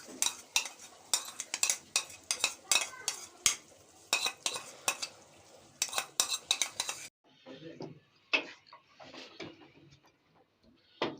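Chicken karahi with cream being stir-fried in a pan, a metal spatula scraping and clattering against the pan in quick repeated strokes, loud and close, with softer scattered clinks toward the end.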